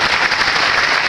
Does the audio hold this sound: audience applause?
yes